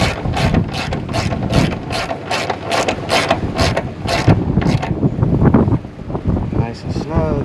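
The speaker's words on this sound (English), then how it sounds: "Go ahead and take my 15, tighten down the block that holds the battery" Ratchet wrench with a 15 mm socket tightening the battery hold-down block on a 1997 Ford truck, a close run of about a dozen rapid, evenly spaced clicks, then a few slower strokes.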